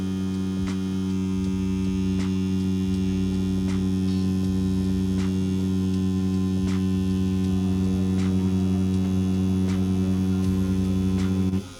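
A cheap beginner tattoo machine hums with a steady electric buzz while drawing one long continuous line, running close and unbroken for about twelve seconds at an even, constant pitch with faint periodic ticks.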